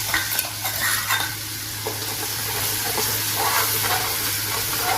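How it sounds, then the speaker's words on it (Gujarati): Cumin, chili and garlic frying in a pan give a steady close sizzle with faint stirring scrapes, no talk over it. "વાહ જીરું નાખ્યું ને પછી મરચું નાખી દીધું લસણ વાળું"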